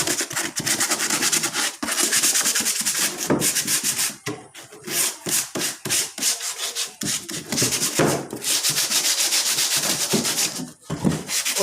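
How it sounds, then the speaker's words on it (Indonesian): A handmade toy bus body being sanded smooth by hand: loud, close back-and-forth rubbing strokes in a steady rhythm, broken by brief pauses between passes. "Untuk di part ke-10 ini yaitu kita tahap halusan ya, bodinya kita halusin"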